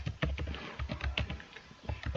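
Typing on a computer keyboard close by, irregular clusters of soft key clicks and thumps in a quick uneven rhythm, moderately quiet, with no speech.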